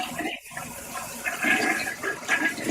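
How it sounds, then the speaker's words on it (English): A toilet flushes with a rushing, gurgling swirl of water that builds and surges in waves, and faint speech can be heard underneath. "Yes, the sound of a toilet flushing."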